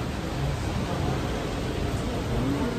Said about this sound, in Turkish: Bayağı yağmur ya, yolda